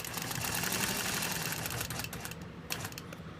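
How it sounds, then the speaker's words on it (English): A sewing machine stitches down a quilt stitch line in a Baptist Fan pattern, running in a steady, fast mechanical chatter at close range, then easing off slightly near the end. "And now we're going to stitch down that stitch line."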